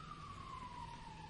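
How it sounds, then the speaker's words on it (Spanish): An emergency vehicle siren outdoors, a single steady wailing tone slowly falling in pitch, distant and faint beneath a low background rumble with no talk. "Disculpen la sirena"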